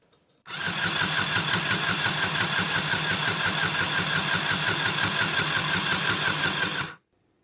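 A Singer Stitch Quick handheld sewing machine running in handheld mode, a fast even buzzing chatter of stitches that starts abruptly, holds steady for about six seconds and stops, close and alone.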